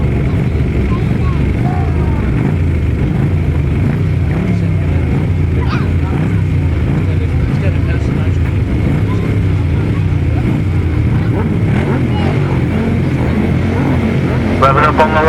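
Grasstrack sidecar motorcycles at the 2018 British Masters meeting roar steadily on the start line, a dense continuous engine drone filling the whole stretch while a commentator talks over it.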